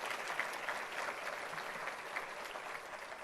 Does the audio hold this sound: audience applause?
yes